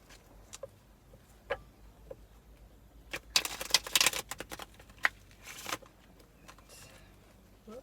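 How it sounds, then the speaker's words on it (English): Tarot cards are shuffled close by: scattered soft taps, then a dense riffling burst, a second quicker riffle, and a few light flicks afterward. "A couple more shuffles."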